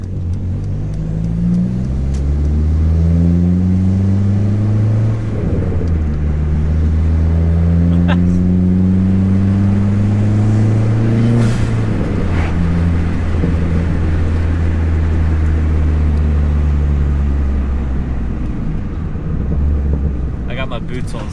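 A 4-cylinder car with a 3.5-inch exhaust revs and accelerates through several gears, a loud, droning engine note rising and falling close to the microphone with wind noise, and a person speaking over it.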